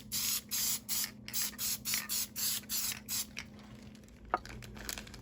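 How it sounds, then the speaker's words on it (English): Spray adhesive hisses onto model moss in a rapid series of about ten short, even bursts, close and fairly loud, followed by a quieter stretch with a single sharp tap. "take our moss and our spray adhesive and just go ahead and give this thing"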